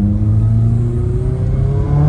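A Honda Civic FA5 engine with a repaired exhaust revs steadily to about 5,000 rpm, its pitch climbing smoothly, loud and close with no voices.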